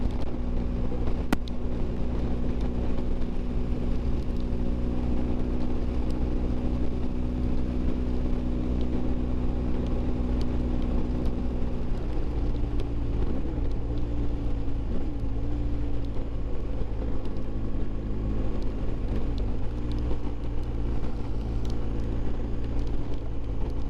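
A BMW R1250GS motorcycle fitted with an Akrapovic exhaust deflector cruises on Ardennes roads and highway, its engine drone steady and loud under constant wind rush, with slight pitch shifts midway.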